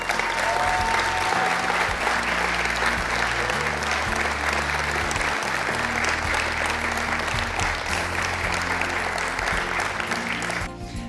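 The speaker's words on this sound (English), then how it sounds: "As each inductee receives their award, I'd like you to give them a big round of applause." A large audience at a university Hall of Fame ceremony gives a sustained round of applause for an inductee, dense and even throughout with a faint slight drop at the very end.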